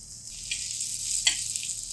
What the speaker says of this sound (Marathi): हे बघा आपली भेंडी फ्राय